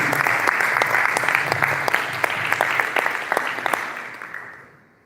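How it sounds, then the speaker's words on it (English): Conference audience at a cyber summit in Abu Dhabi applauds panelists, a dense, lively burst of clapping with distinct sharp claps that carries on steadily before fading out at the end. "Please, a round of applause for my panelists."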